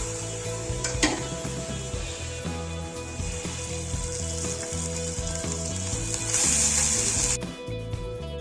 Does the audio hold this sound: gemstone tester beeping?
no